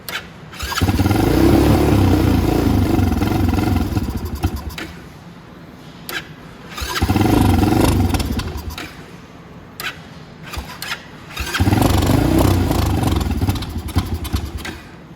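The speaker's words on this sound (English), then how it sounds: "We're going to start it up, and let's see how it runs, or let's see if it continues to run." Repeated attempts to start a motorcycle with the choke up and no fuel reaching its Nibbi carburetor: three loud bursts of starter cranking, each lasting a few seconds, separated by quieter gaps with faint clicks, close by.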